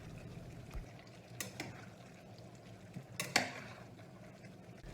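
A spoon stirs a pot of warm homemade chili in a home kitchen, giving a few soft scraping and clinking strokes over a low, steady background hum, with no talking.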